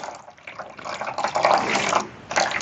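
Water poured from above onto absorbent diaper powder, a short close trickling and splashing pour lasting a couple of seconds with a slight pause near the end.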